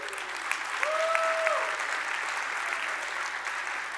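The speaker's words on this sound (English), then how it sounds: "round of applause for the Chrome team." An audience at a React conference applauds the Chrome team with steady, dense clapping lasting about four seconds, with a brief whistle-like tone near the start.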